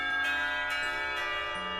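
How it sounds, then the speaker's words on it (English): School bells ring for afternoon classes in the visual novel game Katawa Shoujo, a sustained, shimmering metallic tone with soft periodic strikes that stays steady and clear throughout. "The bells ring for the beginning of the afternoon classes"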